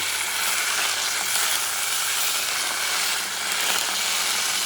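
A bison ribeye steak about 1 1/4 inches thick sizzles in olive oil in a pan, a loud, steady, close frying hiss with no talking.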